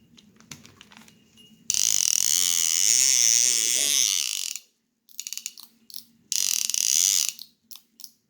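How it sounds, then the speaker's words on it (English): The drag on an Okuma Coldwater 453D fishing reel is tightened and loosened, making loud, close, buzzing runs of fast clicks in two main bursts with a few short ticks between. "Drag tightens, loosens."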